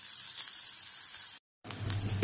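Grated coconut and onion roast in a pan, a steady close sizzle with a brief silent gap before the frying noise resumes.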